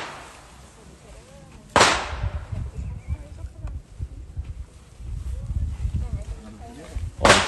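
Two sharp, loud cracks from a TX-22 pistol fired at a target, spaced several seconds apart, with people talking and low rustling in between.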